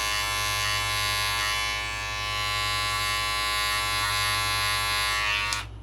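Electric hair clipper buzzing steadily and close during a haircut, its tip tapped on the darker spots of the cut, a continuous strong hum that cuts off sharply at the end.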